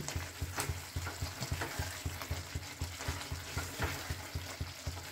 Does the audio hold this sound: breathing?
no